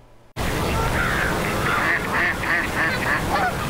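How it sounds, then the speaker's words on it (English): Geese honking at Wyandotte County Lake Park, a run of repeated loud honks over steady outdoor noise, fairly close, with no talk. "Ducks and geese make their home at Wyandotte County Lake Park."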